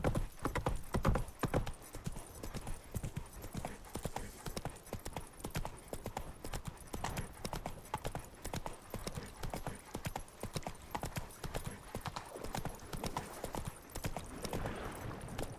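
Steady horse hooves clip-clop at a walking pace in a video game, a continuous rhythmic patter close by with the occasional whinny and a voice briefly heard over it.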